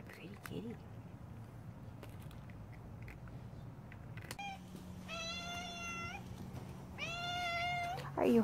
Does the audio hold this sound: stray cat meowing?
yes